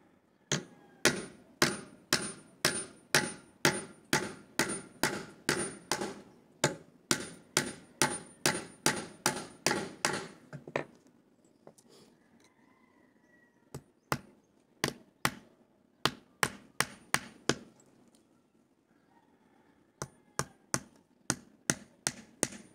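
Nails hammered into a handmade wooden rake, a rapid run of sharp, loud strikes for about ten seconds, then a pause with faint handling noise before sparser, evenly spaced blows resume.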